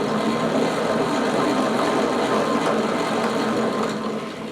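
A hand-cranked Wizard's Winder winds yarn onto a cone in a steady, continuous mechanical whirring hum that holds at one level close by and fades slightly at the end, with no voices.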